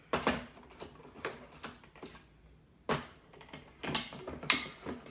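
Plastic bean hopper being fitted and twisted onto a Breville Barista Express espresso machine, giving a series of close, sharp clicks, creaks and ratcheting snaps spaced irregularly, with no talking.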